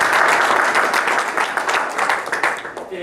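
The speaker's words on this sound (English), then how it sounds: "If we could just have another round of applause for it." A crowd at a Ramadan community event held at a mosque gives a round of dense, steady applause. The clapping is loud and sustained and tapers slightly toward the end.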